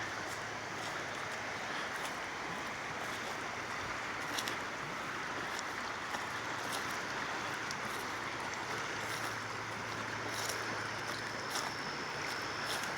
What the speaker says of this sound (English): here I am back by the river again